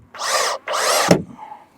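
A power drill drives screws into wood during a large chicken coop build: two steady whirring bursts, then a sharp knock as the screw seats, close and loud.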